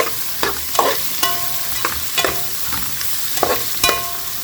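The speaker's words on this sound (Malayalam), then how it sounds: "ഇപ്പോൾ കണ്ടാൽ നമ്മുടെ ഉള്ളി ഇതാ ഫ്രൈ ആയി വന്നിട്ടുണ്ട്" Onions for a fish curry frying in a pan hiss softly underneath a series of sharp, regular metallic scrapes and clinks as a spatula stirs them, close and loud, with no talking.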